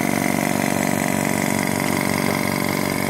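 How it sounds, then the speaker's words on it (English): Small air compressor running steadily, pumping air through a tube into its tank for a homemade rocket project; a continuous close, loud motor drone with a fast regular pulsing throughout, no voices. "the compressor's operating at the moment, pumping the air from this tube here into the tank"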